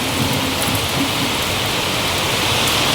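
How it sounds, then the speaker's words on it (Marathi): A heavy downpour makes a constant, even wash of broadband noise, loud and close, with no voices over it. "पाऊस जोराचा पडतोय आत्ता."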